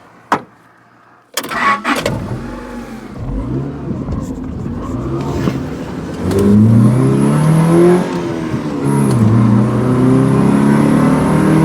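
A Rover 620 car engine starts and revs repeatedly, loud and close, with rising and falling surges that settle into a steady strong idle-rev drone.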